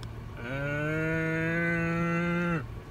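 A single long, steady moo from a dairy cow on a creamery farm, held for about two seconds and fading off cleanly, loud and close with no talking.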